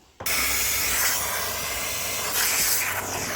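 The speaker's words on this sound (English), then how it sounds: "It's just the benefits of having a steam gun are just amazing." A steam gun cleaning the interior of a Lexus GX 460 bursts into a loud, steady close hiss that keeps up without a break for over three seconds.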